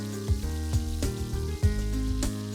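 Tomato puree mixture stirred in a pan over high heat, sizzling steadily with a rain-like hiss, broken by several soft knocks and scrapes of the spoon.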